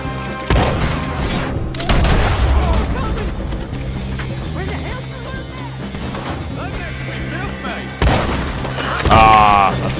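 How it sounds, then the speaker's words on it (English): A repeating shotgun fires in Red Dead Redemption 2, heavy booming blasts mixed with game effects and music, loud shots recurring through the scene with a final burst near the end. "that is the repeating shotgun built"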